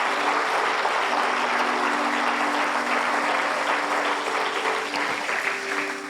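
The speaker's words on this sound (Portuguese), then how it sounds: "Se é para ele, aplaude." Sustained audience applause fills a church conference service, a dense, steady wash of many hands clapping at fairly even loudness, with a faint held musical tone running beneath it.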